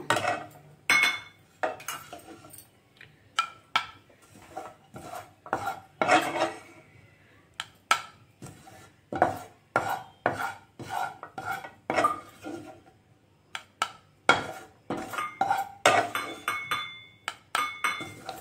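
A metal spoon scrapes fried coconut and cashews from a pan into a bowl, giving a series of sharp clinks and scrapes with brief pauses between strokes.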